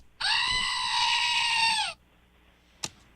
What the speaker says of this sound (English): It's a goat screaming. Little goat screaming.